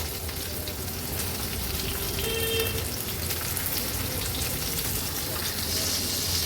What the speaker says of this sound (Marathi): मीडियम फ्लेम वर हे बोंबील एक बाजूनी व्यवस्थित चळून घेऊया